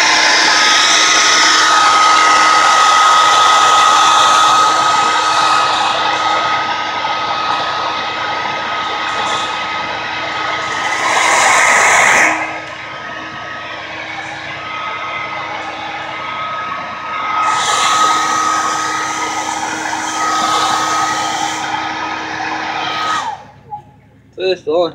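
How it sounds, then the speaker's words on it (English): A handheld hair dryer blows steadily at close range onto a frozen water line under a trailer, a loud continuous whir that drops and rises as it is moved, then cuts off near the end. "get yourself a hair dryer right here"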